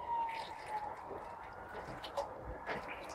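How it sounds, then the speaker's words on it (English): An ambulance siren passing outside, a faint wavering wail under a low background rumble, with no one talking over it. "Ambulance."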